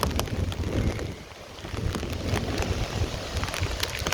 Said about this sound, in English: it's kind of just like a really windy storm